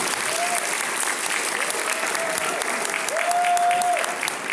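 Farewell applause from a convention audience at Everfree Northwest, a My Little Pony fan convention, with dense continuous clapping throughout and a faint sustained tone rising and falling beneath it.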